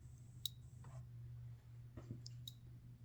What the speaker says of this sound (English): And I hear it clicking, but I don't see a spark.